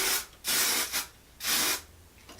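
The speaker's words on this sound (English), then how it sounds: "Just to be safe, I'm gonna go ahead and spray" Hairspray is sprayed onto hair in three short hissing bursts, each about a third of a second, close and crisp with brief pauses between.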